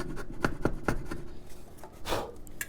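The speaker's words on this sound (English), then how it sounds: "pare the excess down with a chisel, and then scrape and sand" Scraping and sanding of guitar binding after chisel paring, heard as a few sharp rasping strokes in quick succession followed by a broader, softer scrape, close and alone with no talk.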